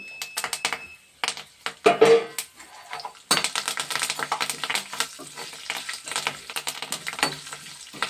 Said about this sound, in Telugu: నేను పోపులు కూడా వేసేస్తున్నాను.